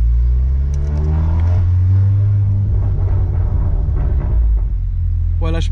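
An Audi S3 (400 hp) engine revs loudly with exhaust valves open, a deep, rumbling exhaust roar that rises and swells, close by, while people talk underneath.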